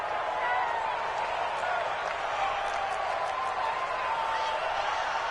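Roaring stadium crowd in a football video game ahead of a big third down, a steady loud wall of cheering and noise with no breaks, with an announcer talking over it.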